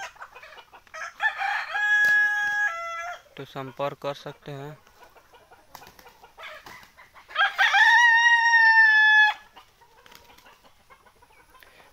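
Free-range desi Sonali roosters about eight months old crow loudly and nearby in two long calls, with clucking between them and someone speaking softly toward the end.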